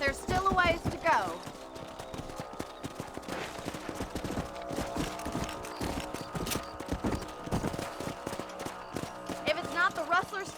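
In the Red Dead Redemption video game, horses clip-clop at a steady riding pace, with hoofbeats repeating densely and fairly close, mixed with a few sharper knocks.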